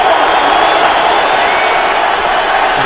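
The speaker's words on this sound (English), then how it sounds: "And a little noise from the Cowboy crowd for the first time today." Crowd noise from the Cowboys stadium crowd at a 2012 NFL game against the Cleveland Browns, a loud, steady roar of many voices that holds without a break throughout.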